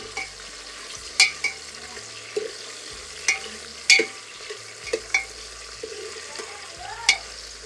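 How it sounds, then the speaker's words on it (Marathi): Tomatoes roasting in a pan for masala rice, a low steady frying hiss punctuated by sharp, separate clinks and scrapes of a spatula against the pan, close and spaced irregularly. "टोमॅटो आपल्याला व्यवस्थित आता आतमध्ये भाजून द्यायचं आहे"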